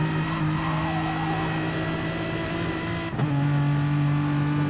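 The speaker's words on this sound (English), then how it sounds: "Sounds like a lazy V8 down low." A V8 race car engine in a sim racing game holds a steady, loud drone with a low engine hum and a faint upper whine. Near the end it dips briefly, like a gear change, then settles back to a constant tone.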